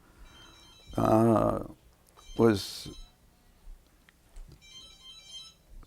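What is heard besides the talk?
phone ringing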